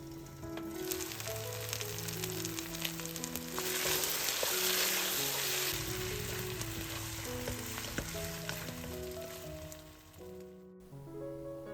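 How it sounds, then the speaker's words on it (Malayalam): Beef roast cooks in a pan on a medium-low flame and is stirred now and then. A steady, soft frying sizzle runs throughout under background music. "ഇടയ്ക്കിടെ മൂടി തുറന്ന് ഇളക്കി കൊടുക്കുക."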